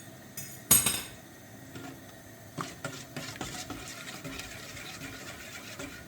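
Faint scraping and light tapping of a spoon in a pot as eggs are stirred, a little at a time, into melted butter and sugar, with one sharp clatter near the start and steady soft stirring after.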